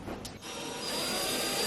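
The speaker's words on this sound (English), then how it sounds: "I'm going to drill in the wall" Power drill biting into a home wall during a DIY upgrade, a steady whirring grind building after a brief sharp tap, fairly quiet and unbroken to the end.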